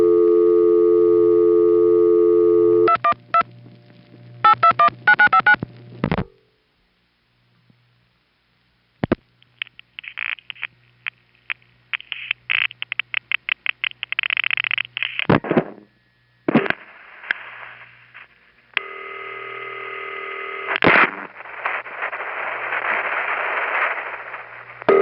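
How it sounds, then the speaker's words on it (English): Telephone call through a panel switching system, recorded on 1977 tape: a steady tone gives way to rapid clicking pulses, then bursts of tones and noisy hiss with abrupt gaps, all heard over the line without speech. "This is just one sound of it that you hear calling into it from the outside."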